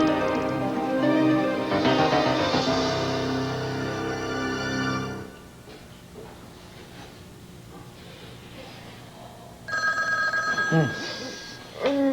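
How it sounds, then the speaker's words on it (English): A telephone bell rings in a domestic drama scene, loud tonal rings in bursts at the start and again near the end, with people talking over and between them. "It's just the phone."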